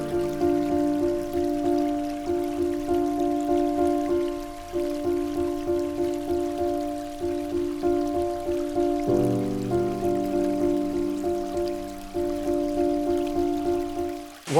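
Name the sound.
waterfall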